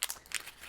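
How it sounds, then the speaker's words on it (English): A sheet of vellum paper being crumpled by hand, a brief burst of crisp crackling crinkles in quick irregular bursts, close and fairly quiet. "We are going to crumple this up."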